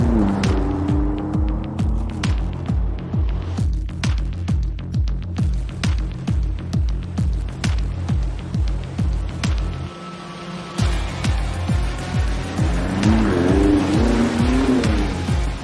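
A Range Rover Sport SV with a twin-turbo V8 driven hard on track at Portimao, the engine roaring loud and close with rhythmic revving through gear changes, a brief dip mid-way, then rising again with tyre squeal.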